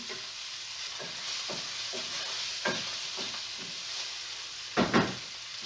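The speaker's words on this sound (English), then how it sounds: "Just stir that about in the pan for just a couple of moments, just until the sausage begins to brown." Sausage browning in garlic oil in a pan, a steady close sizzle with scattered scraping stirs and a couple of louder clatters of the spoon near the end.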